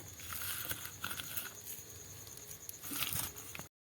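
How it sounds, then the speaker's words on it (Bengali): Crispy fried curry leaves crushed by hand, giving soft, close crackles and dry crunching in short bursts, fairly quiet, with no talk. "কারি পাতাগুলো আমি একটু গুঁড়ো গুঁড়ো করে দিচ্ছি"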